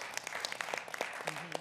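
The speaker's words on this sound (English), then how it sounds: "also a big round of applause to Corey for putting this meeting together for us today." Scattered applause at a board of directors meeting, a sparse group of distinct claps heard fairly faintly in a room, with a low voice murmuring underneath.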